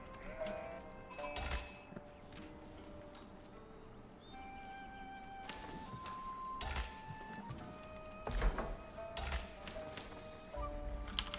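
Sheep in a video game bleat several times over a quiet background, drawn-out tonal cries spaced across the stretch with some faint tapping between them.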